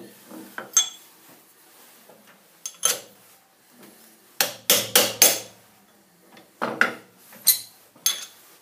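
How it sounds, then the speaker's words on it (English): Metal tool clinks and knocks while a drill chuck is removed and a collet chuck fitted in a machine-shop machine, a series of sharp, close, irregular taps and clanks separated by quiet gaps. "So we'll pop the drill chuck out and swap over,"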